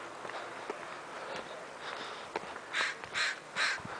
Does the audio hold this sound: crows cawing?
yes